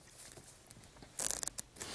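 A deck of playing cards is put through a Zarrow shuffle, giving a short burst of crisp riffling clicks and flutters after a quiet stretch, close and fairly loud with no talking.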